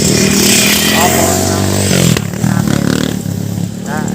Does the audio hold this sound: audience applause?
no